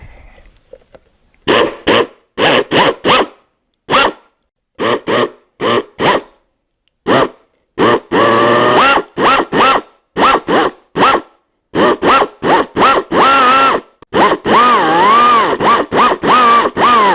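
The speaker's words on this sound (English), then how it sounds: "So I had to go and get my air drill. It fits in here better. It's going to be a little bit loud" An air drill works on a 1974 Yamaha RT3 360 Enduro motorcycle in short, loud, close bursts of whirring, separated by brief pauses, ending in a longer continuous run.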